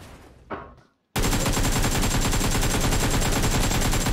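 Sustained automatic gunfire from a shooting video game bursts in loud and continuous after a short stretch of quieter game sound and a brief silence, with no voices over it.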